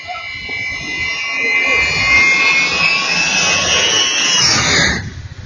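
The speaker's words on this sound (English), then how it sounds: "An airplane just flies by right beside you" Ilyushin 76 jet airplane of the Ukrainian Air Force flying low right alongside, a loud, roaring whine that swells and holds for several seconds before cutting away abruptly.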